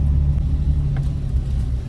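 Porsche 997 engine revving under throttle, a deep steady rumble with a sustained low drone, close and loud throughout with no talk.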